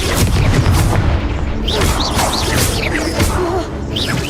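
Confringo fire spell blasts in the Hogwarts Legacy video game: a loud, rumbling explosion with cracking impacts and whooshing magical effects layered over continuous combat noise.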